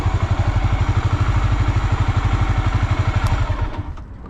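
A Honda GB500 single-cylinder motorcycle engine runs on a first shakedown ride, its steady loud low thumping pulse close and continuous before easing off near the end.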